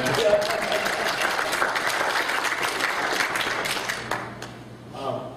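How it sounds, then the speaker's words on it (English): A crowd at a Tea Party general meeting breaks into applause, sustained clapping that fades out near the end, with a faint voice or murmur surfacing underneath as it dies down. "That's a cue for applause, by the way."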